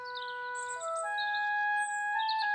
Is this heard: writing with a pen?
no